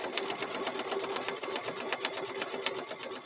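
A sewing machine runs steadily, stitching a fabric microwave bowl koozie, its needle pattering in a fast, even rhythm close by with no talk.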